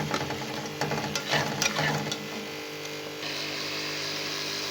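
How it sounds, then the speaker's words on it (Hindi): Spices and tomato masala frying in a pan give a steady sizzle, close and moderately loud, broken by scraping stirring strokes in the first half and settling into an even hiss afterwards. "मसाला हमारा अच्छे से भून रहा है।"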